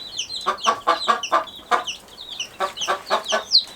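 Hens of an auto-sexing chicken breed cluck in a series of close, repeated calls, two clustered bursts of short clucks with a few higher squawks mixed in.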